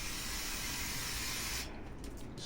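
A steady, loud hiss of aerosol spray on an Audi 1.8T engine block during piston installation runs continuously for about a second and a half, then cuts off, leaving a few short faint bursts.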